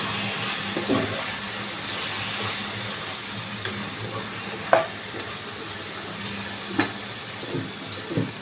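Spiced masala for okra curry sizzles steadily in a pan as a little water is added, the constant frying hiss punctuated by scattered sharp stirring clicks and scrapes up close.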